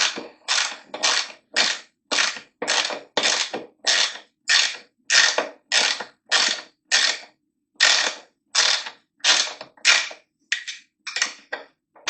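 A hand tool takes four bolts off a Suzuki GSX750F airbox, making loud, close bursts of mechanical clicking that repeat in an even rhythm about twice a second, with no talk.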